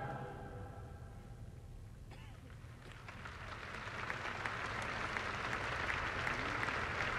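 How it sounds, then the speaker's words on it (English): A huge stadium crowd at a papal Catholic Mass at Candlestick Park in San Francisco in 1987, distant applause building gradually from faint to a broad, sustained roar of clapping, with low rumbling open-air ambience underneath. "The applause at this part of Mass is a bit unusual."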